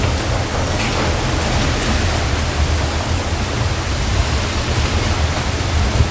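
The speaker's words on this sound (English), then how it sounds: "It's absolutely pouring." Heavy pouring rain lashed by strong storm wind in Spain, a dense, steady roar of broadband noise that stays loud and unbroken throughout, with no talk over it.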